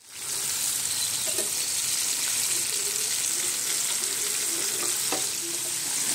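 Chicken wings deep fry in oil over a medium flame, giving a steady, close sizzle and crackle with occasional faint clinks, and no talking.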